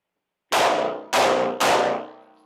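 Three loud gunshots ring out in quick succession, each ending in a metallic clang off steel targets, fired while the shooter pivots to retreat.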